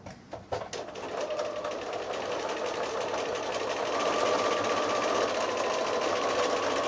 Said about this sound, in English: I'm just going to sew right along on top of that line that I've drawn